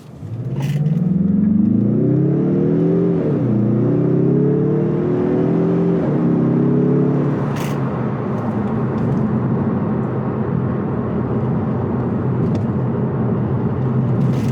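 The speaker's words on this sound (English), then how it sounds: "I'm gonna stop and just accelerate from a standstill so we can get in first gear." A 2021 Mazda3 Turbo AWD with a four-cylinder engine pulls away hard from a standstill in first gear, the engine note rising steadily then easing into a steady cruising drone, loud and close.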